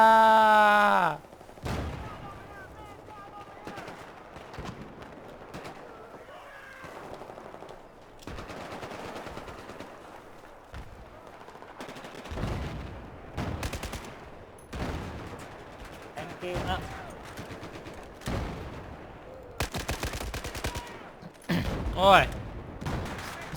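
Rapid bursts of automatic SCAR rifle fire in Battlefield 4 hardcore mode, repeated volleys and single shots spread across the stretch, with occasional spoken remarks between them.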